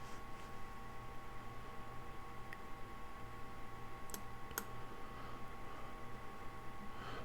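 A computer mouse clicks a few times, sharp faint ticks spaced apart over a steady low hum, while working in SolidWorks.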